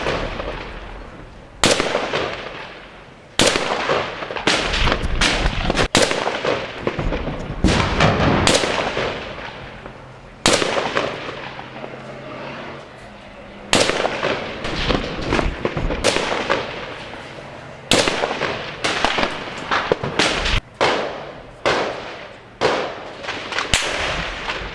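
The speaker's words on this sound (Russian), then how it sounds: "по позициям сирийской армии наносится удар самодельной пушкой, бьющей 300-килограммовыми снарядами." Repeated heavy booms from a homemade cannon firing 300-kilogram shells in Jobar, Syria, one after another at irregular intervals, each a sharp blast fading out, loud and fairly close.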